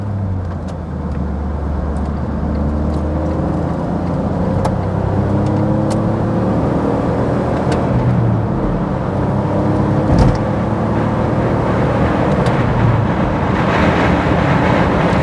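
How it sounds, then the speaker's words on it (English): Steady loud road and wind roar inside a Smart car cruising at 70 mph, a constant broadband rush with low engine hum and no voices. "So the wind noise is chronically awful, but that's 70 miles an hour"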